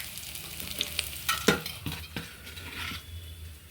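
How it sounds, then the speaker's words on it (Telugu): Dried red chillies and garlic sizzle in oil in a pan while a utensil stirs and scrapes, with a few sharp clinks of metal against the pan and no talking. "ఎండుమిర్చి, వెల్లుల్లి బాగా ఫ్రై అయ్యాయి కదా"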